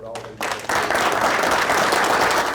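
Commission meeting attendees break into applause for West Tennessee River Basin Authority staff; a brief pause in a voice gives way to clapping that swells quickly and stays dense and loud, with speech briefly present at the start.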